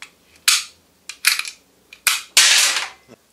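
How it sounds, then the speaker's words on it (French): Cartridges are pushed out of a Smith & Wesson 1911 Pro Series pistol magazine one after another, giving five sharp metallic clicks and snaps spaced irregularly and close to the microphone, each followed by a short rattle. "Pour retirer les cartouches, il suffit simplement de procéder de la sorte."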